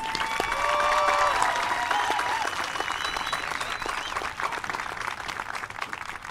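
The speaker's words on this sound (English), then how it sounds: "Let's give them a round of applause" A school auditorium audience applauds the class of 2023 graduates at a high school commencement, a dense, steady wash of many hands clapping that holds strong throughout, with a few faint cheers and murmurs mixed in.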